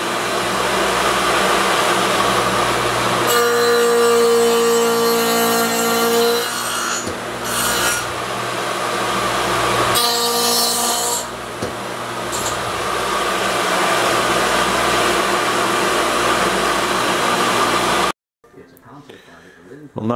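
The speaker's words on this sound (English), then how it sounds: "Well, now I'm mortising the legs." Mortising machine cutting mortises into wooden cabinet legs, a loud continuous motor whine with rough chiseling and rubbing as the bit plunges, steady for most of the span before cutting off abruptly near the end.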